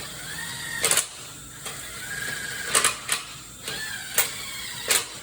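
A ratchet wrench runs bolts down snug on a transmission, giving short sharp metallic bursts of clicking spaced about a second apart, close and fairly quiet, with no talk.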